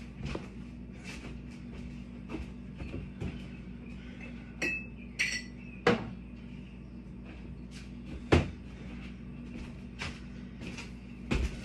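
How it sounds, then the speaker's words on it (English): Someone moves about a home kitchen fetching a glass during a homebrew triple IPA tasting, with scattered clinks, knocks and a cupboard shutting over a steady background hum. "Let me go get a glass."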